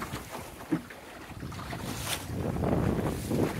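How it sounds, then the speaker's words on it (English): Wind rushing steadily past a sailboat on an open bay of the St. Louis River estuary, with broadband gusty noise and low rumble swelling louder toward the end, plus a brief knock near the start. "The wind's continuing to blow nice."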